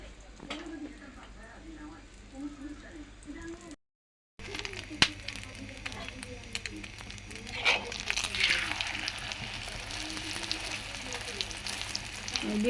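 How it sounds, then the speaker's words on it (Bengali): An egg frying in a pan gives a soft, steady sizzle that swells louder toward the end, with a brief gap in the middle and light clatter around it. "আরেকটা ডিম ভাজলেই শেষ ডিম ভাজা।"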